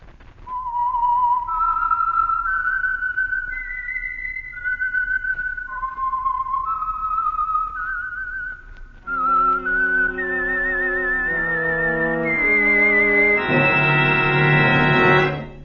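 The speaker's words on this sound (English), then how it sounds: "the signal to listen for is this whistle that identifies the Signal Oil program" A whistled melody of clear sustained notes, the signature tune of the radio mystery program The Whistler, rises and falls, then gives way to a fuller, brassy orchestral chord sequence with steady volume.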